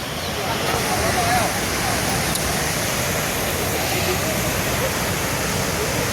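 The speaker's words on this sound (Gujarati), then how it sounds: "તમે જોઈ શકો છો કે અહીંયાથી પાણી હેડે છે" Water rushing through an open dam gate after a sudden gate increase during heavy rains, a loud steady broadband roar of gushing water filling the whole clip without pause.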